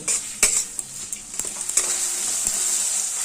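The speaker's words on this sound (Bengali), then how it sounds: "এবার সমস্ত মশলাগুলো খুব ভালোভাবে কষিয়ে নেব" Spices being sautéed with tomato in a pan for a Bengali katla fish curry, a steady sizzle with scattered clicks and scrapes of a spatula stirring, close and moderately loud with no talk.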